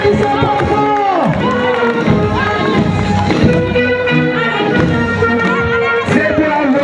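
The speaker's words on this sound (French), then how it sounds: "Applaudissez. Applaudissez pour Jean." Crowd at a school sports event cheers and shouts loudly, with many overlapping excited voices, including children, forming a continuous noisy din throughout.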